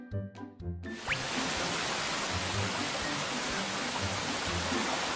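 Night rain in an Indonesian cartoon, a dense continuous hiss that starts abruptly after a brief musical sting and then holds steady, with soft low thumps underneath.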